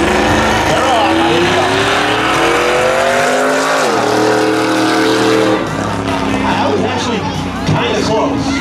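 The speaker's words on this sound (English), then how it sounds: "That is a reverse front wheel drive donut." An engine revs hard with tires squealing and skidding as a front-wheel-drive car spins a reverse donut at a street drag event, loud and close, while a crowd cheers and voices talk over it.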